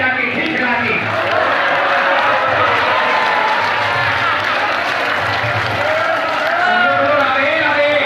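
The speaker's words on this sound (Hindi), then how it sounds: "एक बार हाथ उठाओ और एक बार ताली बजा के खिलखिला के" A crowd in a temple claps together in a dense, continuous wash of applause, loud and steady, with a voice talking over it.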